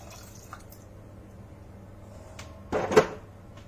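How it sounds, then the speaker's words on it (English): A short burst of water splashing and pouring into a cooking pot of rice and lentils, lasting about a second, over a quiet low background hum. "I'm just going to pop those in and chuck a little bit more water in."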